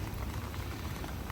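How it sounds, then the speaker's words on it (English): Heavy rain falling on a lake at a fishing spot, a dense, even hiss of drops with a low rumble beneath, constant and close. "there's some chunky rain coming in for an hour or so"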